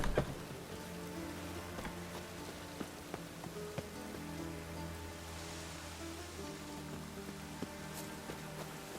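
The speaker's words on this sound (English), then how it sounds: "The rain will cleanse the city's streets of filth." Steady patter of rain falling on city streets in The Witcher 3: Wild Hunt, with scattered drips and low ambient hum beneath, no voices.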